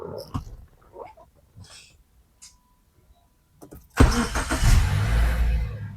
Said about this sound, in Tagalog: start po natin yung engine nito